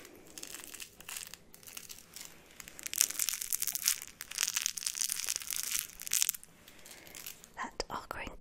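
The crinkly, squishy legs of a baby toy are squeezed close up, producing bursts of crisp crackling and crumpling with faint whispering alongside.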